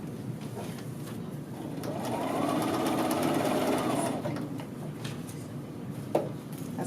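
Sewing machine stitching a collar band facing onto a men's shirt, a steady close mechanical whir that swells in the middle and then eases, with a small click near the end and no talking.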